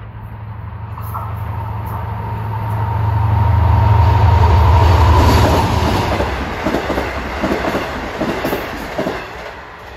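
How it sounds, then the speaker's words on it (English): An eastbound Long Island Rail Road train from Long Island City to Patchogue passes close by at Elmont. A loud rumbling approach swells to a roar, then gives way to rhythmic clickety-clack of wheels over rail joints as the train goes by. "coming east on 1 at 5:07 is train 80, Long Island City to Patchogue"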